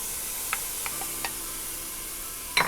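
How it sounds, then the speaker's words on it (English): Kimchi sizzling as it goes into a hot pan for soondubu, Korean spicy soft tofu with pork, a steady close frying hiss with a few sharp pops and clicks of stirring. "the first thing I do is I put in the kimchi."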